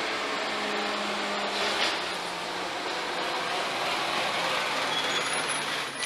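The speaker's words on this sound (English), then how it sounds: "one of my garbage trucks is coming through the area picking up garbage cans and stuff" A garbage truck collecting garbage cans rumbles and whines steadily in the background for several seconds, with occasional hissing and higher squeals, and no talk.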